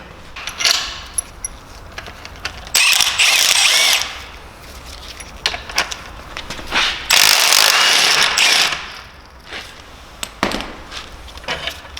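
A hand ratchet clicks in quick bursts as it undoes the alternator bolts on a BMW S54 engine, each run of clicks followed by short pauses and faint handling noises.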